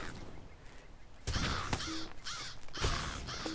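Several crows caw in a video game, harsh repeated calls in quick succession starting partway in, fairly close and loud over a faint ambient background.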